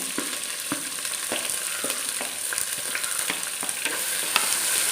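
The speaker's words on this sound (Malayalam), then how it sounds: "രണ്ട് മീഡിയം സൈസ് സവോള അരിഞ്ഞ് വെച്ചിട്ടുണ്ട് അത് ഞാൻ ഇതിനകത്തേക്ക് ഇട്ട് കൊടുക്കുകയാണ്" Two medium chopped onions sizzle in hot oil with curry leaves for a Kerala-style crab roast, an even bright frying hiss marked by repeated light stirring scrapes at a steady pace, close up and free of speech.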